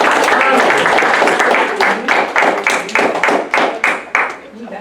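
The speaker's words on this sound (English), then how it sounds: "Applause for David." An audience at a science café talk claps together, a dense wash of applause that thins into separate, slowing claps near the end, with some talking mixed in.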